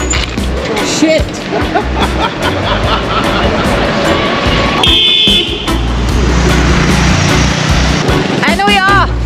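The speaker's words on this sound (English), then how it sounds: "Uh oh, bus." Bus passing on a busy road in Vietnam during a day trip near Ninh Binh: steady loud engine and traffic rumble, short horn toots, and a brief whine, with a voice talking now and then.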